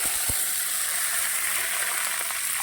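Mustard seeds frying in hot oil for a Tamil tamarind curry with turkey berries, a steady hissing sizzle with faint crackles, close and alone.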